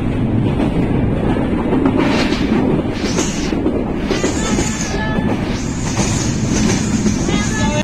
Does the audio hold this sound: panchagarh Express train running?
yes